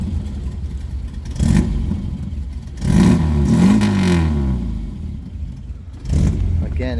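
A 1980 MGB convertible engine idles with a low rumble and is revved several times, each burst swelling louder before settling back down.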